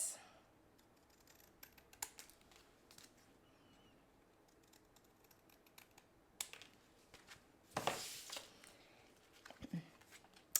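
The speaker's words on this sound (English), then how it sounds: "Just cut off the excess." Scissors make faint, scattered snips while trimming excess paper from a handmade card, with one louder, longer cutting rasp near the end in an otherwise quiet room.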